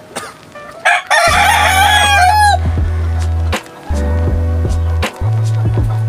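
A rooster crows once, loud and close, in a small backyard chicken coop. Steady low tonal droning sounds in the background and carry on after the crow.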